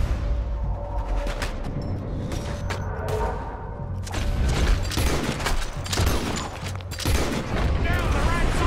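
Gunfire in Red Dead Redemption 2 during a beach fight with a cannon at hand: repeated rifle and pistol shots crack in irregular bursts with booming hits, loud and close, while voices shout over the shooting.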